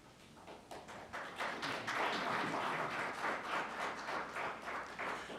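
Applause from the audience at a Veterans Day event in the Village of Hanover Park, starting with a few scattered claps and swelling into steady, full clapping that holds for several seconds.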